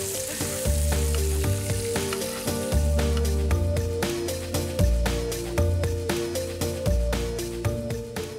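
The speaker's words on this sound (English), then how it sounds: "So this way, you're cooking the beef from both sides." Wagyu sirloin sizzles steadily in a hot pan, cooking from both sides in its own rendered fat, the crackle running continuously beneath louder rhythmic background music with bass and chords.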